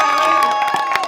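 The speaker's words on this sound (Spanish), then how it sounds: "Que se escuchen los aplausos." Wedding guests cheer and clap together in a loud, steady burst of crowd noise with shouts rising over it, close and continuous throughout.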